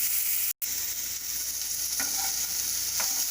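Sliced lotus stem sizzling in a pan of hot oil, a constant close hissing crackle with a brief dropout and a couple of light stirring clicks, no voices.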